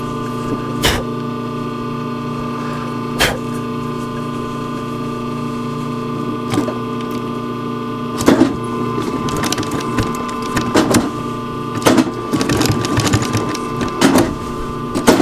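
A sewing machine stitches a wool blanket shirt and leather in short bursts of two or three stitches, pausing between runs with sharp mechanical clicks as the foot is lifted and the work turned; no one speaks.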